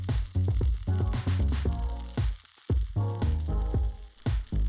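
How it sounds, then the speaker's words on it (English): Onions sizzle and sauté in olive oil in a skillet over medium-high heat, with loud crackling frying broken up by repeated scraping and stirring strokes, close and without speech. "Over medium-high heat, add olive oil to your skillet. Add in your onions and sauté until they're soft."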